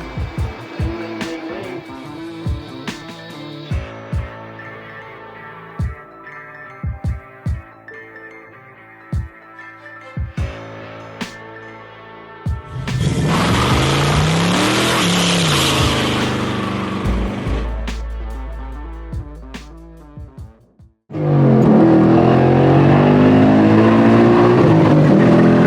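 A 2021 Ford Mustang fitted with a Roush supercharger revs in short blips, then accelerates hard through rising gear pulls, ending in a loud, close, sustained engine roar.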